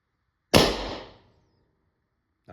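A single sharp, loud shot from a Defence Innovation Pistelle X68 (MCS) CO2 launcher, a burst of gas that hisses off over about half a second before quiet returns.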